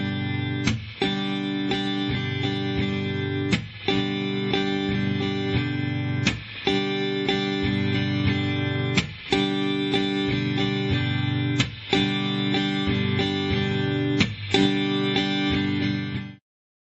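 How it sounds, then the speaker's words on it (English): Acoustic guitar strummed slowly, sustained chords broken at regular intervals by sharp percussive muted chucks, played alone with no voices. "especially on acoustic guitar, that you get good at this chucking."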